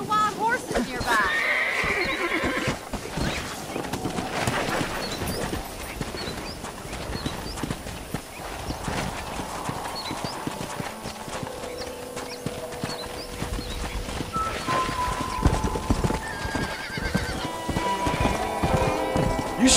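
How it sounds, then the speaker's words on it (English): Wild horses neigh and whinny over the steady clip-clop of galloping hooves in Red Dead Redemption, layered with game music and ambient sounds throughout. "there's a pack of wild horses nearby"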